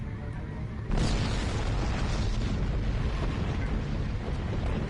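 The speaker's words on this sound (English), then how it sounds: "That was quite an explosion. Probably from the Thaleron weapons carried aboard the ship." A starship explodes in Star Trek Online, a sudden deep boom that erupts after a quieter lead-in and rolls on as a dense, sustained rumble.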